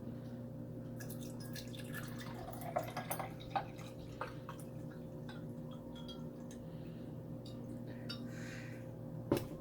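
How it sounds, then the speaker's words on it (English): Water poured over ice cubes into a glass at home, a quiet trickle with a few sharp clinks of ice against glass over a low steady background hum. "So just add your ice cube, then some water, fill up the glass."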